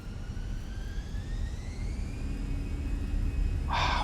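Airliner jet engines in a flight simulator game during a night takeoff roll in strong winds: a steady broadband roar under a rising turbine whine, loud and continuous, with a brief brighter burst near the end.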